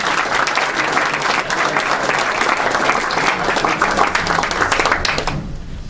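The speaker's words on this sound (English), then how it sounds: "So let's give another round of applause for all the demos tonight." Audience at a New York enterprise technology meetup applauding after the evening's demos: a dense, steady burst of many hands clapping for about six seconds before cutting off.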